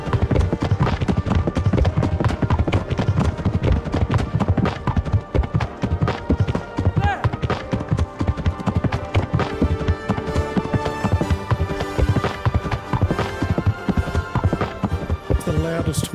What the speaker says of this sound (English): The loudest horse in the universe.